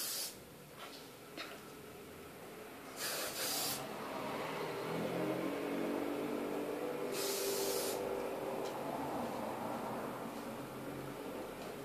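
Hairspray misted onto hair while styling overnight waves, with two short, bright aerosol bursts standing out above a soft background of rubbing and rustling.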